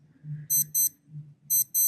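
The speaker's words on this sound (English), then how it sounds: "And now that's what the alarm sounds like." A Casio F-91W digital watch sounds its alarm as repeated pairs of short, shrill electronic beeps, clear and close, with a gap in the middle and faint background hum underneath.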